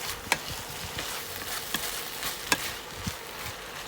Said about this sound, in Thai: เปิดคนหนึ่งรอบนะคะ คนคุกคุกให้เขากลับขึ้นมาจากด้านล่างนะคะ